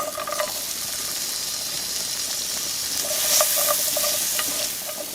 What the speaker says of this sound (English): In the same pan that I made the green beans, we're going to throw in our carrots.